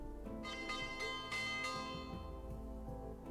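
Bell tolling for lunchtime in the Death on the Nile video game, a run of resonant church-like strikes spaced roughly evenly, each ringing on and overlapping the next, steady and fairly loud without any voices.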